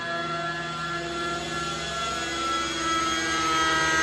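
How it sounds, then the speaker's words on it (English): A nitro-powered RC helicopter engine screams at full throttle during a climb, giving a steady, high, buzzing whine that swells slightly louder toward the end. "Nice full throttle climb out."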